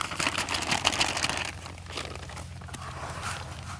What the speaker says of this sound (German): der Marc kann die andere Tüte auch schon mal öffnen